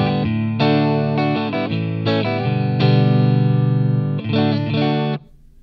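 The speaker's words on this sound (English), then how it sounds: "this is just kind of what the amp sounds like" An electric guitar played through an amp with a dry tone and no effects, strumming a series of distorted chords in short bursts with an abrupt stop at the end.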